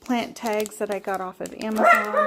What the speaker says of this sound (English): Excuse the little dog.